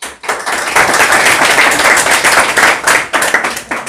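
Students in a classroom quiz clap together, a dense, loud round of quick overlapping claps that continues steadily for several seconds with brief dips.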